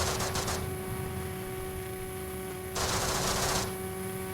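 A model warplane in a balsa model flight simulator game fires its machine gun on a strafing pass, giving two rapid bursts over a steady engine drone.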